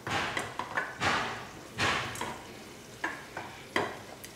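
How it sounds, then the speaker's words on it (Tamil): Cooked rice mixed with puliyodharai powder is stirred in a hot pan, with repeated scraping, shuffling strokes of a spoon at an uneven rhythm over a faint sizzle, close and fairly loud, with no talking. "1 நிமிஷம் மட்டும் இந்த சூட்டில் வச்சு கிளறிக்கலாம் சாப்பாட்டு."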